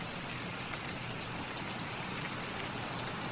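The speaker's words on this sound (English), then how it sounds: "the rain's pretty damn loud" Dense, steady hiss of heavy rain pouring down in the video game Escape From Tarkov, an even wash of noise with no pauses and no voices.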